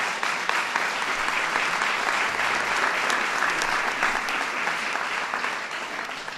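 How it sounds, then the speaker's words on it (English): Large crowd at a White House event applauds steadily in a dense, continuous wash of clapping, loud and even throughout. "That's worth an applause right there."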